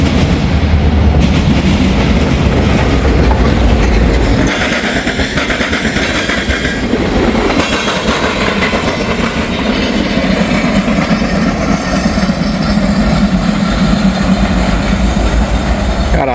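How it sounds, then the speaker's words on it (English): A local freight train with a caboose rolls straight through Marion, loud and close, its steady wheel rumble and clickety-clack filling the whole stretch without a break. "we got the local with the caboose, and he's coming straight on through instead of turning over there"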